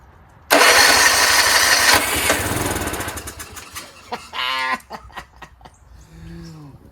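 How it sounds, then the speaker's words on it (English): A John Deere RX75 rear-engine riding lawnmower cranks loudly for a few seconds, its engine stuttering into uneven chugs. A few sputters follow, then a short rev and a fainter rumble. "Let's see if it cranks and turns over."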